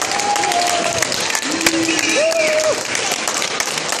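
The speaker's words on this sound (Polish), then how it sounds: "Brawa, brawa dla wszystkich." A crowd applauds at the WOŚP Jaworzno charity rock concert, loud and continuous, with shouts and whistles rising above the clapping.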